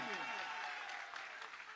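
An audience at a Jain monastic initiation ceremony claps in a dense, sustained patter of applause, faint and distant, with a voice speaking over it.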